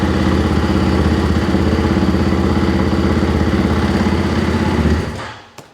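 A modified KTM 500 dirt bike with a rocket exhaust idles loudly and close with a rapid, rough putter just after starting, then cuts off near the end, leaving a brief clatter.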